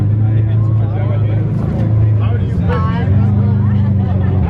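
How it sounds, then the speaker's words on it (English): A Lamborghini Aventador SV supercar pulls away from a car meet, its low engine rumble loud and close throughout while people chatter in the background. "the super nice spec Aventador is leaving. Aventador SV."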